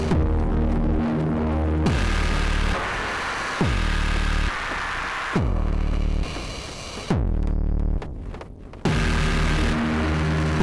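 Soma Pulsar-23 drum synthesizer run through a distortion effect, playing a loud, throbbing, gritty electronic pattern with booming low hits and abrupt section changes, steady and close throughout.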